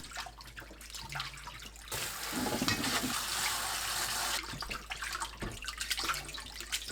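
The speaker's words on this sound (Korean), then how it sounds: "찬물에 두세 번 헹굽니다" Blanched mugwort is rinsed under cold running water, a steady close splashing and gushing that rises sharply for a couple of seconds and then settles back to quieter trickling and handling noises.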